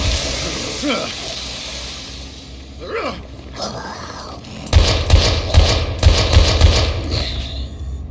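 Gunfire in the survival horror game Daymare 1998: a few sharp single shots early on, then a dense burst of loud rapid shots with a sizzling hiss running underneath.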